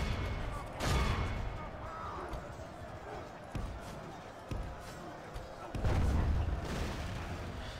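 Artillery fire in a Gundabad campaign battle video game, with heavy booming shots around one and six seconds over ongoing battle noise, while someone talks over the action.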